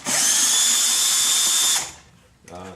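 A power driver whirs loudly and steadily, removing T30 screws from the air filter housing of an Audi A8 D4 4.2, then winds down, followed by a short burst of voice.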